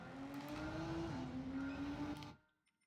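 Turbocharged car engine from the Gran Turismo 7 racing game, a steady sustained drone with a smooth, slowly shifting pitch under load for over two seconds, then cutting off abruptly into near silence.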